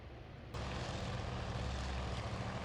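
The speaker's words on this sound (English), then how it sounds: "last takeoffs from Lexington will be the 3 torpedo bombers" Torpedo bombers take off from the carrier Lexington in Task Force Admiral: a steady propeller-engine drone rises suddenly to a louder, sustained roar that holds throughout.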